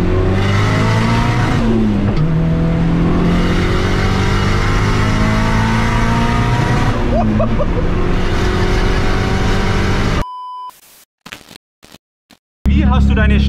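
A loud Nissan S13 race car engine drones and revs from inside the cabin on a public road, pitch rising and falling with gear changes, then cuts out abruptly in choppy gaps.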